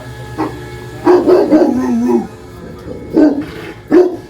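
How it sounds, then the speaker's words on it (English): A dog barks in a few short, loud bursts nearby, with brief gaps between the yelps and some whimpering tones. "Is that dog just as mean?"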